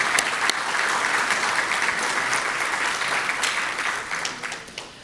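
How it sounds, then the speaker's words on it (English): Steady round of applause from a dinner audience honoring scouting leaders at a district recognition dinner, a dense continuous clapping that holds evenly before thinning slightly at the end. "Please join me for one more round of applause for all of those leaders and those involved."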